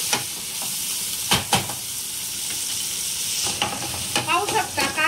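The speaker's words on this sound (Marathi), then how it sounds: "पाहू शकता कांदा आणि टोमॅटो आपला छान परतला आहे।" Onion and tomato sauté in hot oil with a steady sizzle, broken by a few sharp scrapes and clinks of a spoon stirring in the pan.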